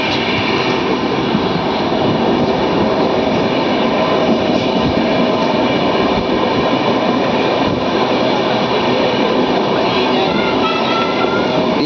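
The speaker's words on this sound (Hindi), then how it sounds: "मैं हूँ ट्रेन में सीट पे। अभी देखो अभी दिल्ली क्रॉस हो रहा है।" A train running along the railway track past Delhi, heard from inside a carriage as a loud, continuous rumble of wheels and rail noise, steady throughout with no voices.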